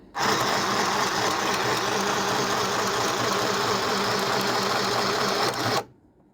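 A mini sewing machine runs steadily and loudly while test stitching, a dense continuous mechanical whir lasting nearly six seconds before stopping abruptly.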